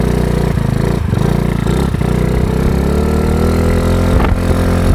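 A Yamaha Mio Sporty scooter fitted with a 59mm bore kit idles steadily and close by, its engine putting out a low, even hum with no voices over it.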